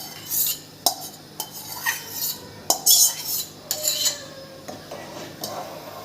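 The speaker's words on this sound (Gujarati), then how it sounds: "ચાલો, હવે આપણે આ બાફેલા શાકભાજી છે એ નાખી દઈશું." Boiled vegetables being added to a pot of sambar, heard as intermittent clinks and scrapes of a metal spoon against the vessel, close and moderately loud with pauses between.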